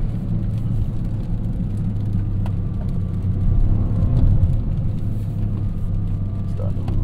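A Toyota GR Corolla driving on a wet road gives off a steady low engine drone and tyre rumble that swells slightly midway as the car starts losing grip, with someone talking over it throughout.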